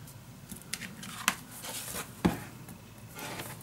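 Scissors cut paper for a junk journal, faint close snips with two sharper crisp clicks among quieter rustling, no talking.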